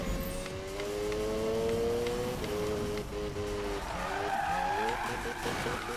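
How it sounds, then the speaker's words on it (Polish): A Mazda RX-7 drifts in Need for Speed 2015, its engine droning steadily while tires squeal and skid in long sliding tones that shift in pitch, loud and close with no talk. "Nie powinienem robić takich driftów z takim kątem w tym samochodzie."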